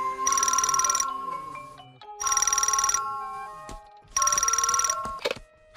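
A cartoon telephone rings in three bursts separated by short pauses, each a bright, trilling electronic bell, fairly loud with faint background sounds between rings.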